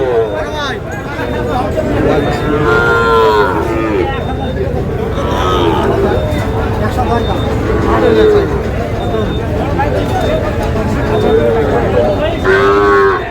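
Sahiwal bull calves at a busy cattle market give repeated loud moos, several drawn-out calls spaced through the scene over a constant hubbub of crowd chatter and people talking nearby.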